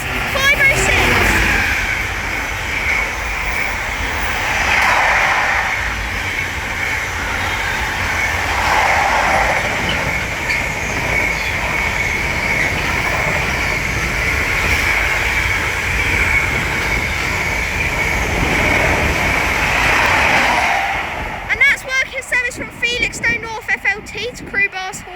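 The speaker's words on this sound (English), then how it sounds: "right there is a Freightliner. Actually, that's a Class 66." A Freightliner Class 66 diesel locomotive hauling a freight train through Bletchley on the West Coast Main Line, a long, loud rumbling roar with rhythmic pulsing of the wagons and a broken clatter as the last of it goes by.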